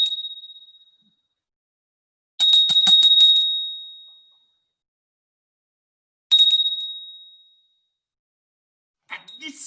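A different small bell struck in a meditation exercise: a fading tail, then two bright, shimmering strikes with long decaying rings and a brief softer jingle at the end, heard alone without speech.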